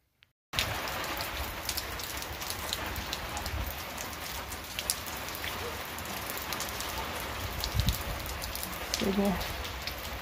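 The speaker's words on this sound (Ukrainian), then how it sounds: "6 градусів тепла, йде дощ." Steady rain falls outdoors in a village in central Ukraine on a cool spring day, a dense continuous patter with scattered nearer drops, heard alone at a close, even level.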